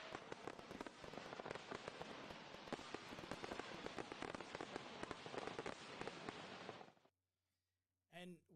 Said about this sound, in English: I think I'm gonna, you know, hit the fireworks for you guys